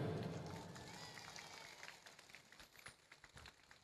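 Audience applause at an Islamic school event hosted by a regional religious affairs office, a dense clapping crowd that starts loud and thins to scattered claps.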